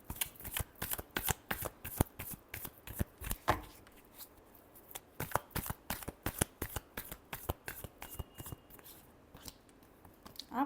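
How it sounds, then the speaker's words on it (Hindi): Cards shuffled for a tarot-style reading make quick, crisp riffling flutters, repeated in short bursts at close range over a quiet room. "last shuffle"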